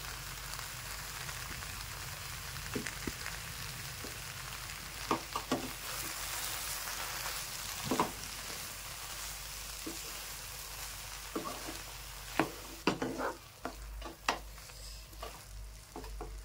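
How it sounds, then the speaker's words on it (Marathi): Potato and eggplant rounds stirred in a pan, with a soft, low sizzle broken by scattered scraping clinks of a spoon against the metal. "ते टाकून द्यायचं आहे आणि त्याला मस्त हलवून द्यायचं आहे"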